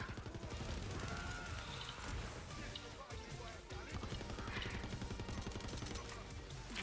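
Turret gunfire in Borderlands 3 during a Mayhem-mode fight in the Cartel event, a dense rapid stutter of shots over chaotic game noise, fairly quiet overall and continuous throughout.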